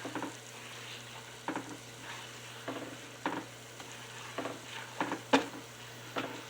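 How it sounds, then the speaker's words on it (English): Southern breakfast gravy thickening and browning in a pan, stirred with a spoon scraping the bottom in irregular strokes over a faint simmer and low hum, with no talking. "You want to stir the bottom and make sure it don't stick"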